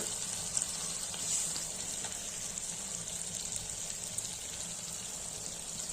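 Small puti fish curry simmers in a pan, giving a faint, steady sizzle with soft bubbling and crackle throughout, no voices present.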